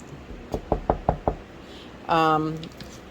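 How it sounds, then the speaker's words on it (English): Five sharp knocks on wood in an even rhythm, close and distinct, followed by someone speaking. "knock on wood"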